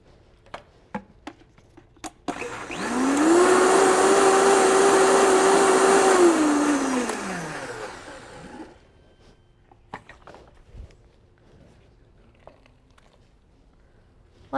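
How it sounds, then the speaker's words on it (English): A blender whirs loudly for about six seconds, then winds down, with scattered clatter and faint taps before and after. "And again, just kind of clean out my blender."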